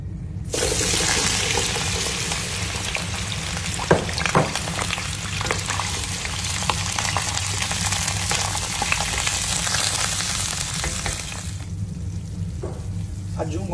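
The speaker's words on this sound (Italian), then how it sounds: "Faccio rosolare un po' l'aglio nell'olio per poi aggiungere la zucca" Garlic sizzling in hot oil before squash goes in, a loud, dense, continuous frying hiss that fills the whole stretch and then quiets briefly near the end.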